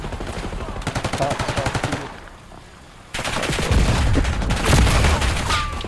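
Gunfire in the game Black Ops 6 on the Hacienda map in ranked play, rapid automatic bursts, a pause, then a longer sustained stream of shots with low thumps, loud and close.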